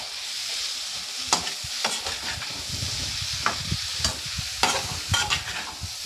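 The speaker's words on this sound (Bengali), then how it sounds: "সব উপকরণগুলোকে ভালো করে একটু নেড়ে নেব।" Tiger prawns, tomato and kasuri methi stirred in a frying pan: a constant sizzle with repeated scraping and clattering strokes of the spoon, close and fairly loud.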